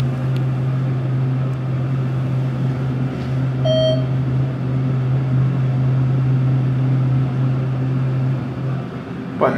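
A modernized ThyssenKrupp hydraulic elevator at the De Anza College pools in Cupertino descends with a steady low motor hum, loud and continuous, and a short series of chime beeps near the middle of the ride.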